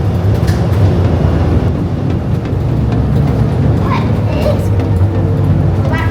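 Steady rumbling ride noise of the Miami Metromover automated people mover, a constant low drone with rattles, while people talk over it close by.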